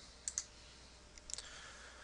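Two crisp computer mouse clicks close to the mic, then another quick pair a moment later, faint and dry against a quiet background, with no speech.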